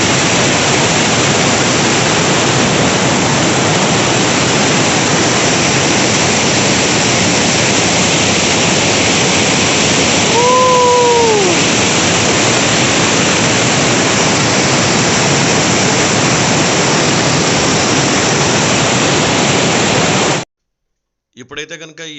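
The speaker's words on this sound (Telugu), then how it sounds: "నెక్స్ట్ లెవెల్ స్పీడ్లో ఉంది వాటర్ ఫాల్ అయితే కనుక" A loud, steady roar of rushing water pouring down continuously, broadband and unchanging, ending abruptly near the end.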